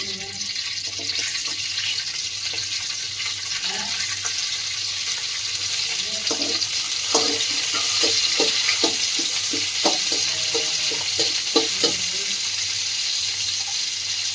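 Curry leaves and three or four chillies frying in ghee for chicken ghee roast, a close steady sizzle with a run of sharp crackles and pops in the middle, no voices.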